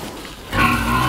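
Pig on a farm giving a low grunt, close and fairly loud, starting partway through after a quieter moment.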